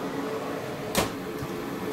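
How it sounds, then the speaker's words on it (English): A laboratory microwave digestion system's door is shut, giving a single sharp thud about midway over a steady humming background, followed by a fainter knock, no voices. "we can go ahead and close our door"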